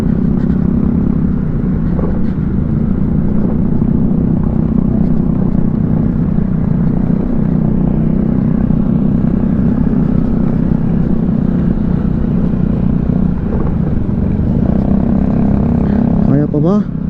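A motorcycle on an enduro ride drones steadily and loudly through the whole stretch, a continuous engine and road roar, with voices talking over it.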